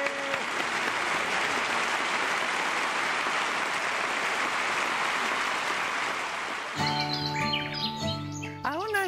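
Audience applause for a band at a live show, dense steady clapping for about seven seconds that then stops abruptly as chirpy electronic music tones take over.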